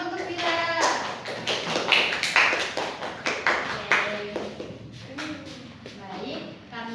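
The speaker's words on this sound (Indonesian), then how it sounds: "tepuk tangan dulu untuk Vira" Classroom applause for a student named Vira, scattered claps and taps from children rising and fading over several seconds, mixed with children's voices and chatter.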